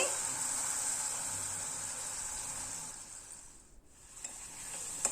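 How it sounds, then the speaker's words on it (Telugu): Soaked chana dal added to cooked tomatoes in a hot pan for a gongura sorrel-leaf curry, giving a steady, fairly soft hiss and sizzle that briefly dips before resuming, with a voice speaking over it. "ఇప్పుడు దీనిలో నానబెట్టి ఉంచుకున్న శనగపప్పుని యాడ్ చేసేస్తున్నానండి"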